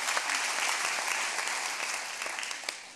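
An audience at a live evening event claps in sustained, dense applause, loud and even throughout, with no talk over it.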